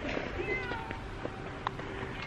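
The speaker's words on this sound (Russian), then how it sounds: "Ох, какой ты рыжий кот." A large ginger cat meows a few times outdoors at close range, short cries rising over steady background noise and light rain.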